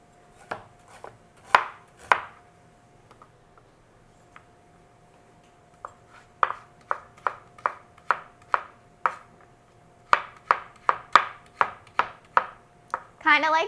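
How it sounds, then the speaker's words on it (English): Fresh ginger is cut up with a knife on a board, crisp chopping knocks in uneven bursts separated by short pauses, close and clear with no talking. "So I have fresh ginger here that I'm going to cut up."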